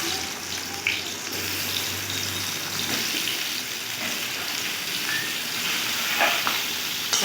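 Pieces of pointed gourd (potol) fry in hot oil with a dense, loud, continuous sizzle heard up close, a few brief crackles and pops breaking through the steady hiss, with no voices.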